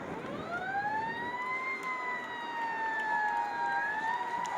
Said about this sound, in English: Stadium wins, they brought the siren.